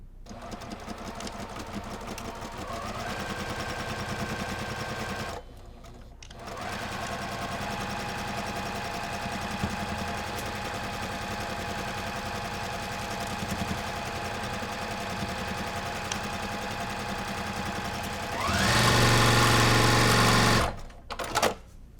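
A sewing machine stitches the last quarter-inch seam of a pinned Halloween bat quilt block, whirring steadily and close, pausing briefly once, then speeding into a louder, faster run near the end before stopping.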